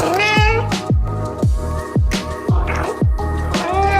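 A cat made of yarn meows repeatedly, about seven short rising-and-falling mews in a steady rhythm, close and clear with no talking.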